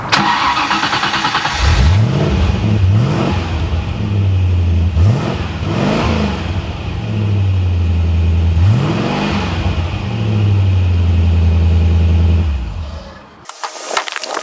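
A 3.9 litre Rover V8 in an MG RV8 sports car is blipped repeatedly, each rev rising sharply and falling back to a steady burbling idle, loud and close, three or four times before cutting off.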